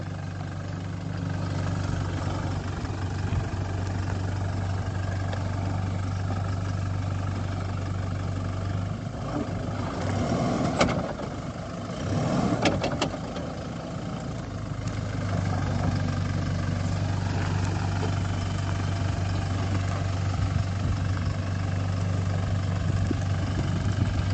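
A Toyota Hilux Revo Rocco 2.8 4x4 automatic pickup runs with a steady low engine drone throughout, briefly dipping and roughening mid-way as it works in low range with traction control, then settling back to an even hum.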